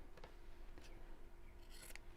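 Scissors trim away the end pieces of fabric lining during a sewing demonstration, making a few faint, short snips in a quiet room.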